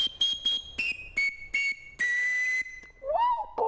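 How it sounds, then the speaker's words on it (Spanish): An antique, very small rondador panpipe from Cajamarca plays a string of short, breathy whistled notes stepping down in pitch, then a longer held tone and a brief wavering run at the end, clear and close with no talk. "Este es un rondador de Cajamarca muy antiguo"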